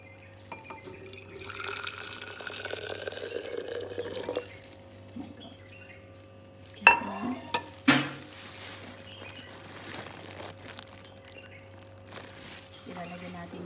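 Freshly boiled sugar syrup for a lumpia vinegar dip being poured into a glass jar: a quiet trickle and drip of liquid with occasional glassy clinks and a couple of louder splashy bursts, fairly close.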